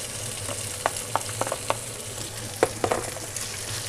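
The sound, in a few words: sliced chicken sizzling as it goes into the frying pan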